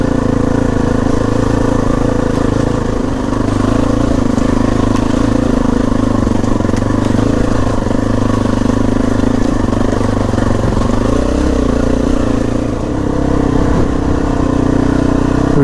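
A Honda CRF dirt bike climbs a trail, its engine droning loud and close the whole time with steady mid-pitched rumble and small throttle changes, no voices.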